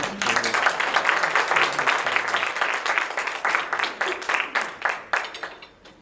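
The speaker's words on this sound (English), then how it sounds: "Give him a round of applause." A crowd applauds steadily for several seconds, the dense clapping holding strong before thinning and fading toward the end.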